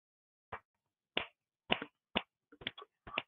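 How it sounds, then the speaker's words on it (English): Seven crisp finger snaps, sharp and dry, spaced irregularly with a quick double near the end, close and alone against silence. "I was just in the background snapping my fingers."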